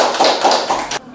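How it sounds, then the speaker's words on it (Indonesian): A classroom audience gives a short burst of applause, several hands clapping quickly for about a second before it stops abruptly. "Boleh tepuk tangan."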